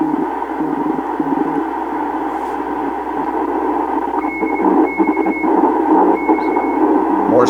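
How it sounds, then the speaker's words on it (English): Morse code tones picked up by a WV-601 compact loop all-band radio antenna, short beeping bursts riding over continuous radio static and hiss. "Morse code coming in nicely."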